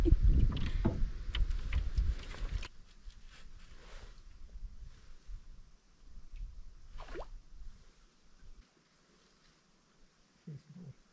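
A canoe is paddled on a lake in Kolovesi national park, with close splashes and water drips from the paddle strokes that fade into near quiet.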